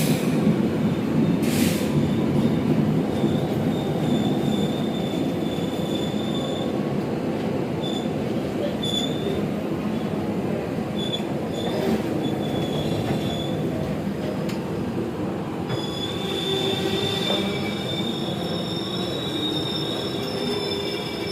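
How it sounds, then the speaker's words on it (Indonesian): The Mutiara Selatan passenger train from Bandung to Surabaya Gubeng rolls steadily along the rails with a constant low rumble, and high-pitched wheel squeals flare up intermittently throughout. "kereta api Mutiara Selatan dari stasiun Bandung tujuan akhir stasiun Surabaya Gubeng"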